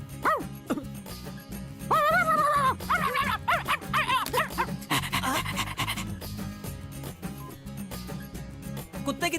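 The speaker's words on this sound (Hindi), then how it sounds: "अंकिता, ये तो आवारा कुत्तों को पकड़ने का म्युनिसिपैलिटी डिपार्टमेंट है सर" Several dogs pant and yip in a municipal stray-dog catching facility, with quick repeated breaths, short high yelps and whimpers overlapping at close range against a busy background.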